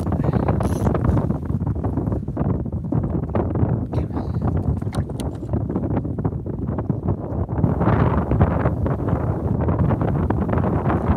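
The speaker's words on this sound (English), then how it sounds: "The joys of the wind." Strong wind buffets a small fishing boat out snapper fishing, a steady roaring rush with microphone gusts across the whole stretch and no talk.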